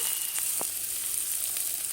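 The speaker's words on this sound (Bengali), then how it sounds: "ভাজা হয়ে গেছে, তেল ছেড়ে দিয়েছে। এর মধ্যে দিয়ে দেব ভেজে রাখা" Steady sizzling of potatoes frying in hot oil, a continuous bright hiss with a couple of brief clinks from stirring.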